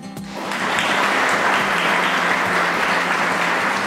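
An audience at an opening ceremony breaks into applause that swells quickly and then holds as steady, loud, dense clapping from many hands across the hall, with no voices over it.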